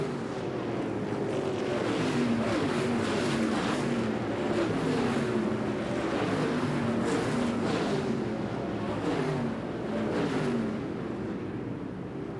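Dirt race cars lapping a speedway oval, heard from trackside: a continuous loud engine roar with rising and falling pitch as cars pass, dense and sustained throughout with wind buffeting the microphone.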